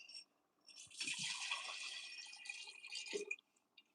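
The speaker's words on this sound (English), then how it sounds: "let's get some water in here." Water is poured into a flask during a live chemistry demonstration, a faint gushing splash lasting a couple of seconds after a short knock, ending with a few small drips and clinks.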